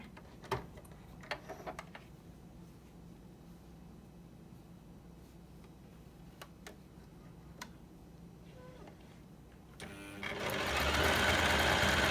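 A ZEN ZN1101 sewing machine gives a few soft clicks and taps over a quiet room, then starts stitching near the end with a loud, rapid mechanical whir.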